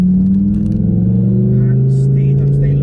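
Audi R8 V10 Plus with an active Quicksilver titanium and stainless steel exhaust with an X pipe, holding a loud, close, steady rev whose pitch climbs slightly, with someone talking over the engine.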